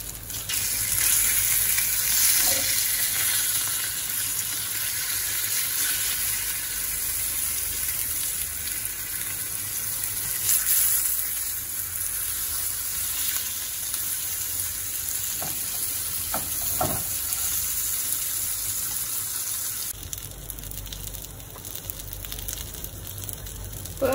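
Pomfret fish frying in a pan gives a steady, loud sizzle with occasional stirring and turning sounds, continuous throughout and without talk.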